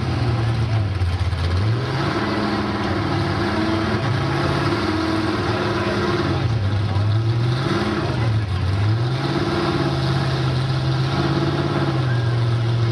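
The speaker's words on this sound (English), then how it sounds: "400 small block under the hood." A car with a 400 small-block V8 and 38-inch tires idles loudly with a deep rumble. It revs repeatedly in rising and falling swells, close by throughout.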